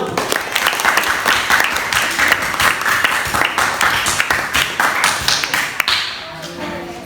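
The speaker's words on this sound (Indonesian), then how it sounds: "Oke, tepuk tangan untuk kelompok 1." A classroom of students claps for the first group after its presentation. The sharp, fast hand claps come close and loud, and voices talk over them before the clapping tapers off at the end.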